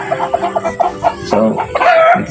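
Chickens cluck close by and loud in a rapid, uneven series of calls, with a rooster-like crow rising near the end, and no voices over them.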